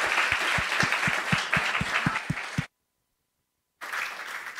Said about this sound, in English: many thanks for the panelists and a round of applause